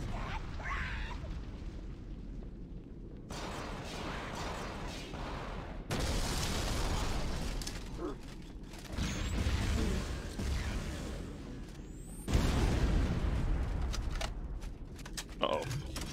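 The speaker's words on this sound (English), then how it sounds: "That explosion came from inside." Deep booming blasts and rumbling bursts from explosions in the video game Halo SPV3 rise in loudness at a few points, with heavy noise and mechanical clatter throughout, no clear speech.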